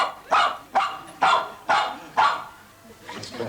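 A dog barks five times in an even, evenly spaced series, close and loud, answering a simple arithmetic sum during a 1991 BBC television pets special, with a faint softer yip at the end.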